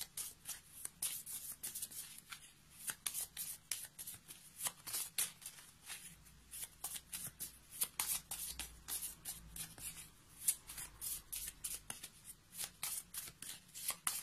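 Oracle cards being shuffled by hand in a quiet room, a steady run of soft, rapid papery riffles and slides lasting throughout with no talking.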